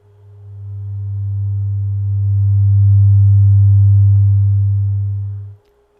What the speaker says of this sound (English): sine wave audio going into it